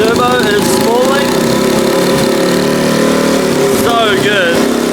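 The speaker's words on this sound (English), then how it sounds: "Turbo is spooling." A turbocharged 150cc engine runs loud and rough nearby, with a thin whistling turbo whine that climbs and falls as it spools up.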